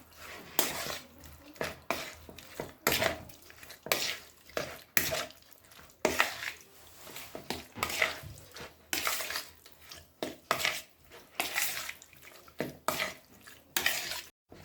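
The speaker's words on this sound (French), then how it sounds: "Et j'ai une cuillère de paprika. Et je vais mélanger tout ça." A spoon stirs a paprika marinade for Moroccan skewers in a bowl, making rhythmic, close scraping and clinking strokes that come in quick repeated bursts with short pauses, and no talking.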